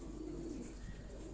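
A pigeon coos softly in a low, faint murmur against a steady background hum, lasting just over a second, with no voices.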